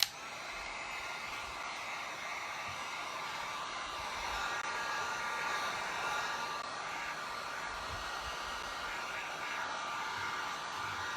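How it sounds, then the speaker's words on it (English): A hot air gun drying a freshly decorated upcycled kitchen cabinet door blows with a continuous, even whooshing hiss, close and steady for the whole stretch with no voices over it. "I'm going to go ahead and do my hot air gun on there to get it dry"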